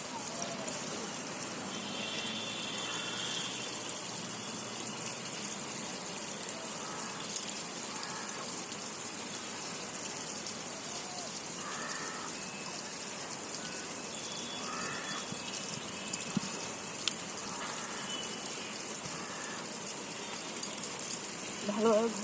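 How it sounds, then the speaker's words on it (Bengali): Very cold water from a timed municipal tap pours in a steady, faint splashing stream while hair is being washed, a continuous low gush with scattered drips and a voice talking over it. "ভীষণ ঠান্ডা জল, টাইম কলের জল।"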